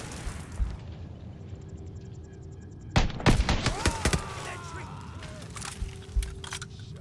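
Enemy gunfire in a jungle battle of the Call of Duty: Vanguard campaign, a sudden volley of loud cracks and impacts with whizzing rounds after quieter ambience, then scattered shots.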